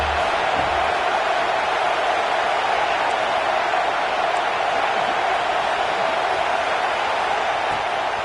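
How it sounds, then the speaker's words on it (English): Home crowd roaring steadily at a Notre Dame football game against Washington, a dense, loud wall of cheering and whooping that holds without a break. "how nice is it to have the home crowd going absolutely bananas?"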